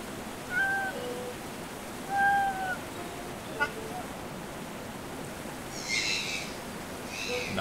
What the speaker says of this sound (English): Can't help but notice there's a cat here.